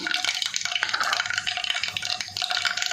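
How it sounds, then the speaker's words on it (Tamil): Mustard seeds, lentils and fenugreek crackle and sizzle in hot oil for a Tamil sundakkai vathal kuzhambu, a close, steady frying hiss dotted with rapid tiny pops, with no one talking. "எண்ணெய் நல்லா காஞ்சிருச்சு இப்போ கடுகு இந்த பருப்பு போட்டுக்கலாம் அது கூடவே வெந்தயம் சேர்த்துக்கலாம்"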